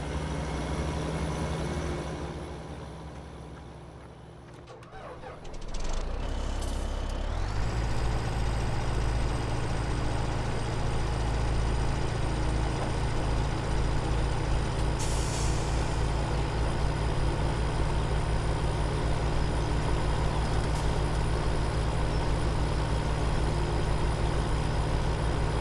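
A truck in Farming Simulator 17 gives a loud, steady engine drone that swells in after a brief hissing air-brake release near the start, then runs on evenly with no talk.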